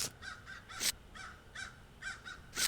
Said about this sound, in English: Birds flying above. Thank you, birds.